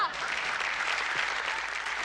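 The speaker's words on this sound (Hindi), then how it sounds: "तालियां!" Steady, dense applause from a crowd, loud and continuous throughout.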